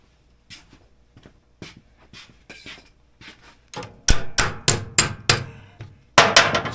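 Sharp hammer taps on a rounded nut of a bolt on a vintage Polaris XLT 600 triple snowmobile skid, starting as light spaced taps and building into a run of louder, ringing metallic blows.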